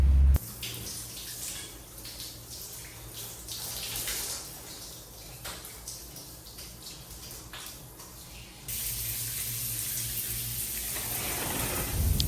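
Shower water runs in a steady broadband hiss for the whole stretch, getting a little louder near the end, with no voices.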